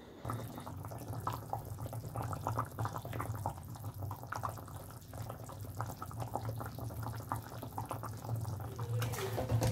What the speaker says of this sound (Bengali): জল দিয়ে দিলাম একটুখানি, টক জল, ধোয়া জল, এবার ফুটার অপেক্ষা